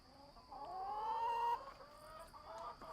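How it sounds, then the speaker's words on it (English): Hens in a backyard homestead coop cluck and call out in drawn, wavering tones, fairly near and steady over a low background hum. "these chickens, they won't shut up."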